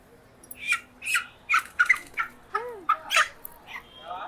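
A chicken at a home Bonalu festival gives a series of short, sharp clucks in quick, uneven succession, close by and clear, with little else around.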